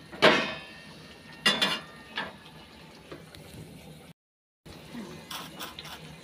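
Fish is turned over in a cooking pan during curry preparation, giving a few sharp metallic clinks and scrapes with quiet gaps between, close and clear over a faint kitchen background.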